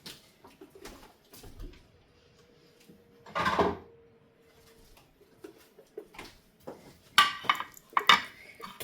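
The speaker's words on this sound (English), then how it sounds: "Let me get a plate." Plates and dishes clatter as a plate is taken out in a kitchen during baking of a yogurt cake, with a long scraping rattle midway and a rapid burst of ceramic clinks near the end, close and moderately loud, no talking.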